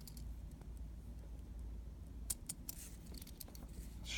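A fountain pen is shaken by hand, giving several quick, faint rattling clicks in the second half over a low steady background hum.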